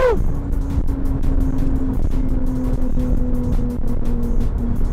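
A Porsche 991.2 Carrera GTS, a roughly 450-horsepower car with ceramic brakes, pulls hard in sport mode. Its engine drones loud and steady from close by, with a rising tone early on and no talk.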